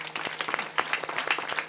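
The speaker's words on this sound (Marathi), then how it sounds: "महाराजांसाठी जोरात टाळ्या वाजवा" An audience claps for the performer at a kirtan during a harinam saptah gathering, a short burst of dense, close applause throughout.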